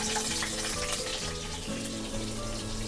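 Mustard seeds, cumin, chana dal and green chillies sizzle as a tempering in hot oil for a ridge gourd and chana dal curry, giving a steady, close crackling hiss with tonal background music underneath.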